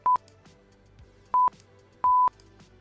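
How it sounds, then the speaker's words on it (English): Three electronic beeps from a real-time voice changer at a steady mid-high pitch, the first two short and the last held a bit longer, with quiet background hum between them. "And this also has a beep system."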